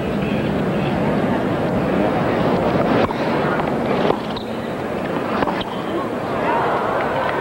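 Wind buffets the microphone at an outdoor US Open tennis match, a steady broadband roar with gusty swells throughout, faint voices mixed underneath.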